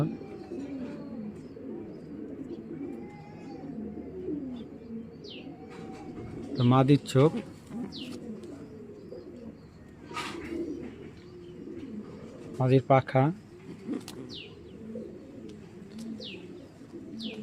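Racing pigeons coo softly and repeatedly at close range, with a few sharper bursts of wing or call activity, beneath someone talking throughout.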